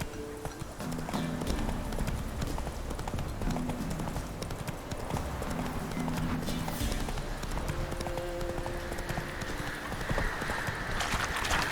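Roach the horse in The Witcher 3 walks with steady, rhythmic clip-clopping hooves, moderately close, in a repeating gait with faint ambient game sound beneath.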